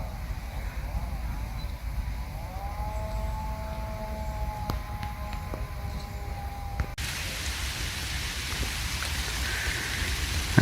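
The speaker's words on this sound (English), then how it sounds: "Actually in the middle of a rain shower now, it's quite amazing really." A steady rain shower patters over a fishing lake, giving a constant, even hiss with a faint tonal whine in the middle and no talking.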